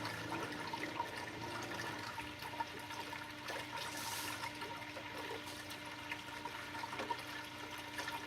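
An aquarium wave maker churns water inside a test tank, a steady, dense wash of sloshing and rushing water that continues without pause at a fairly close, even level.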